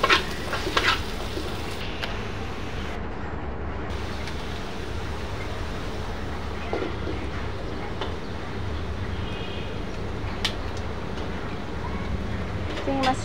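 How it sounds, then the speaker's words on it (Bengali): Chopped onion and garlic fry on a hot tawa for a dal tempering, giving a steady close sizzle throughout with a few faint clinks over it and no talking. "আমি তাওয়ায় পেঁয়াজ কুচি রসুন কুচি দিয়ে দিলাম"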